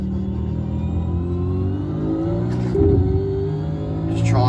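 V8 Supercar engine in iRacing at Bathurst, holding a steady loud drone with rising harmonics, then revving harder as the throttle is applied near the end, with no talk over it.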